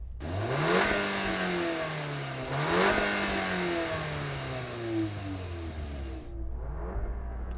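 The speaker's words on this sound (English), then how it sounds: "Let's have a listen to that T-Roc and your 4 cylinders." A four-cylinder VW T-Roc R engine revs hard twice, pitch climbing and falling each time, then settles back toward a lower idle.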